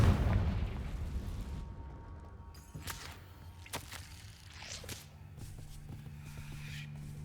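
A Confringo fire spell blast in Hogwarts Legacy, heard as a few sharp whip-like cracks and bursts over a low rumbling game background, with a loud boom at the start fading into ambient noise.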